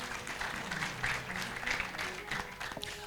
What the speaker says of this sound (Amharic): አጨብጭቡ ለጌታ ክብር።